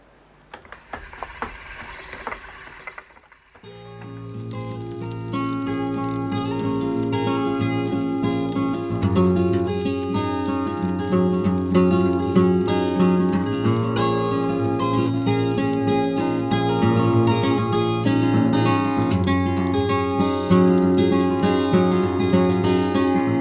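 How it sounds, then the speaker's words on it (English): A spinning wheel spins yarn from raw fleece, starting after a short quiet rustle and then running as a continuous, even mechanical whir with a rhythmic clicking undertone that lasts throughout. "I'll join on another one and then I'll carry on spinning for a while."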